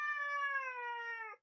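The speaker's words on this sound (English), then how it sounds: "this is my cat. She's a little Russian blue." A Russian Blue cat gives a single sustained meow, clear and close, with a steady tone that drops slightly in pitch before cutting off sharply; no other sounds.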